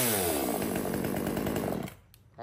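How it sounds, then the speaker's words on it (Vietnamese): Small gasoline mini chainsaw running loud and steady with a buzzing two-stroke drone, then cutting off abruptly near the end, leaving a brief quiet tail. "Giật rất là nhạy nổ luôn, và dòng này nổ rất là sướng, nghe rất là bon và ngon lành cho anh em luôn."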